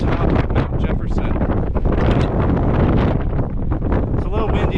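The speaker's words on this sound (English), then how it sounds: "It's a little windy, as you can see." Strong wind roars and buffets the microphone at the summit of Mount Jefferson, a loud, continuous rush with gusty surges throughout and no clear speech.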